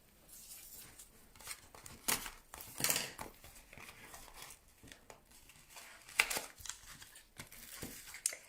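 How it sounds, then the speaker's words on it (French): Close crinkling and snipping of packaging being cut with scissors, irregular bursts of sharp rustles and clicks, no talking. "Je vais prendre mes ciseaux."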